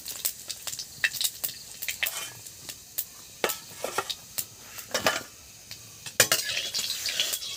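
Panch phoron spices hit hot oil in a pan and sizzle with a soft crackle, while a spoon stirs and clinks against the metal in sharp, irregular taps, close by.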